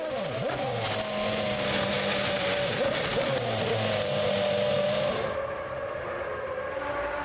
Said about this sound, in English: Takuma Sato hits a bump and spins at turn 11.